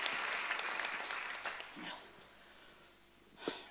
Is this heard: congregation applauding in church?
yes